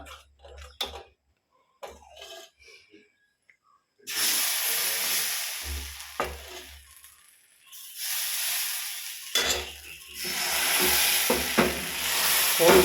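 Vellappam batter poured into a hot pan sizzles in bursts of steady hissing and frying, broken by short pauses and soft clinks of the pan and utensils.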